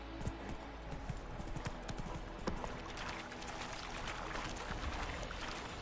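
Horse galloping in The Witcher: Wild Hunt video game, a steady run of rapid clip-clop hoofbeats on a path, moderately loud with faint ambient game sound behind.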